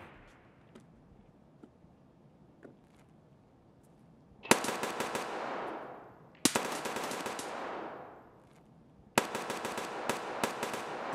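Video game gunfire comes in three loud, rapid automatic bursts after a quiet stretch with faint scattered clicks, each burst sharp and close and fading with a trailing echo.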